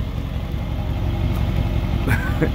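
A diesel truck engine idles after heavy log hauling, a low rumbling chug with steady pulses close by, broken by a couple of short clanks and a brief squeak near the end.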